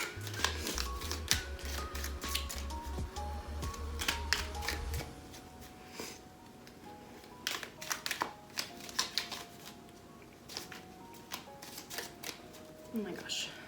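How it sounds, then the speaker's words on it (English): Tea leaf oracle cards shuffled by hand, a run of quick papery riffles and flicks, close and fairly soft, with a low steady hum early on and sporadic clicks and taps through the rest. "these are always so hard to shuffle"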